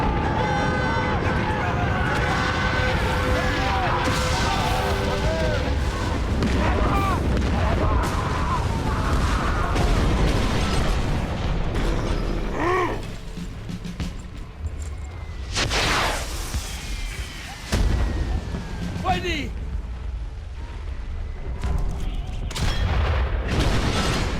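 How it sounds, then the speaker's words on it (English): Cannon and battlefield gunfire from the WWI game Valiant Hearts: The Great War, heavy booms and crackling shots over dense continuous war noise, loud and sustained with sharper bursts throughout. "Emil's precision cannon firing enabled Freddy and his regiment to to reach the rear line unharmed"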